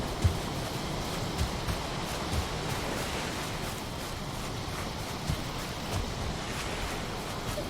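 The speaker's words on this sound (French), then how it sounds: "J'entends qu'il y a du vent." Steady, broad rushing wind noise from the video game Valheim fills the clip, a continuous airy roar with faint low thumps, no voices.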